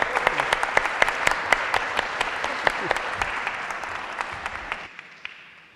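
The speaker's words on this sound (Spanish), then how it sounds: "Un aplauso para él" Audience applause at the closing session of a human rights forum at the Mexican Senate, a dense patter of many hands with sharp individual claps standing out, steady and fairly loud before cutting off abruptly near the end, leaving a faint room tail.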